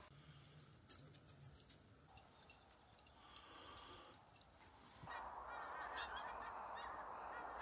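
Geese give faint, distant honks over a steady outdoor background that grows louder partway through, with no talk.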